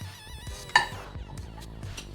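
Chopped onion, capsicum and tomato go into a bowl in a home kitchen, giving a sharp clink of dishware and then soft, faint clatters and taps.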